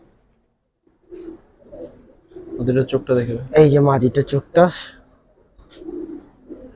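Giribaz pigeons coo softly and nearby, their low murmurs partly buried under someone talking close to them.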